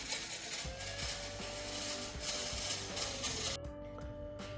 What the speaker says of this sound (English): The noise you can hear is from the compressor wheel scraping on the turbo's housing.